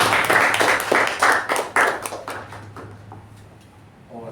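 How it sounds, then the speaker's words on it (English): An audience at a club meeting claps in a short round of applause, a quick patter of many hands that is loud for about three seconds and then thins out and fades. "A round of applause to."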